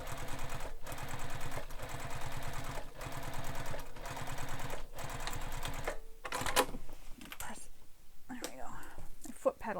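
A sewing machine runs in a fast, steady burst, topstitching a vinyl handbag panel, then stops, followed by quieter handling and fabric rustle.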